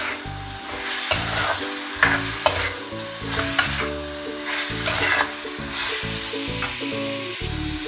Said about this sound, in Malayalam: ഇതിലേക്ക് നമുക്ക് കുറച്ച് ചിക്കൻ ഇട്ട് കൊടുക്കാം കേട്ടോ. അപ്പോൾ നമുക്കൊന്ന് മിക്സ് ചെയ്തെടുക്കാം.